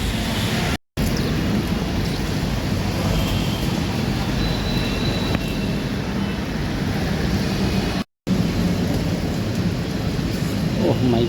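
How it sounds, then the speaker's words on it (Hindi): Dense, roaring heavy rain pours down continuously in Delhi as a loud broadband wash, with two brief gaps where the sound cuts out. "भयंकर पानी हो रहा है, फिर भी मैं जा रहा हूँ,"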